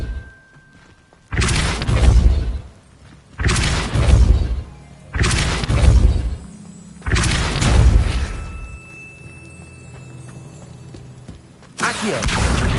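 Depulso spell cast repeatedly in Hogwarts Legacy, five loud booming blasts with a thudding crash each, spaced about two seconds apart, with a quieter lull and faint tone before the last burst.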